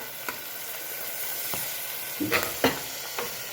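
Vegetables with peanuts and curry leaves sizzle in oil and ghee for vaghareli khichdi, with a soft steady fry and a few clicks of stirring spoon against the pan.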